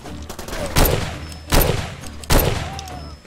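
Three bursts of gunfire from the video game Far Cry 2, each a loud, sharp volley spaced about three quarters of a second apart over a steady game background.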